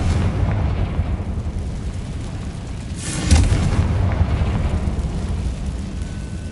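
A Confringo spell explosion in the Hogwarts Legacy video game, a single low boom bursting out near the middle over a steady rumbling game background, with no voices.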